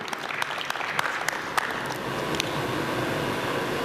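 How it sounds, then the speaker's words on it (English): Audience applause at a phone and fitness band launch event in India, a broad continuous clatter of many hands with sharper individual claps standing out early, then settling into a steady roar. "can we have an applause for that?"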